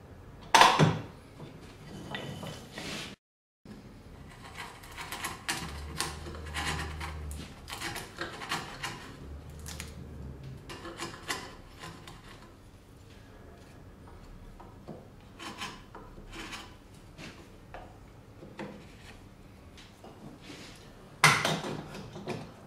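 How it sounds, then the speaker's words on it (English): Hand-guided chisel paring the corners of a wooden double dovetail joint, giving soft rubbing, scraping strokes in a steady series with a couple of louder knocks near the start and end, close by. "Only guide the chisel by hand to do this, don't tap it."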